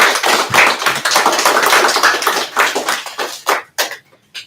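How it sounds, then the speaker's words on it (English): Classroom audience of students applauds a classmate after her presentation, a dense, close patter of many hand claps that thins into a few scattered final claps before stopping. "Let's give Ivy a round of applause"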